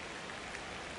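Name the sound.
rain during a baseball video game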